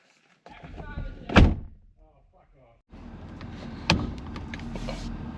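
A newly bought truck's door is shut with a solid, heavy thunk, followed by a second duller knock a few seconds later, while people talk nearby.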